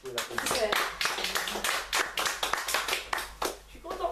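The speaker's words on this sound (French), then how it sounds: "Oui, vous pouvez l'applaudir." Audience applause at a FasterEFT therapy session on grief and pain: a small group claps in quick, uneven bursts, close and fairly loud, with a voice speaking over the clapping.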